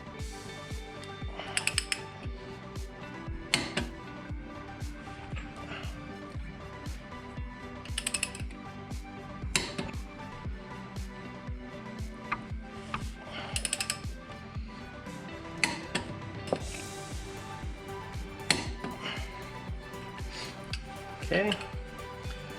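Final drive bolts on a Yamaha V Star 1100 motorcycle tightened with a torque wrench: steady ratcheting clicks in repeated runs with occasional sharper metallic clacks, close up, with quiet talk in between.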